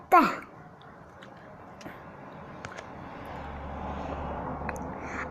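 An airplane in a video game drones with a steady engine rumble that slowly swells, opening with a brief sharp burst of sound.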